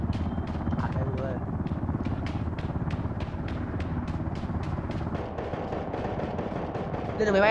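Helicopter in the Ring of Elysium video game, its rotor chopping in a loud, steady, rapid rhythm throughout, with someone talking over it.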